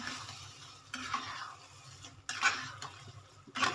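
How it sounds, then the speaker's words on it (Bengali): Liver and brain bhuna being stirred in a pan with salt and green chilli, giving soft scraping strokes in a few short bursts over a quiet background, with no talk. "একটু নেড়ে নিলাম"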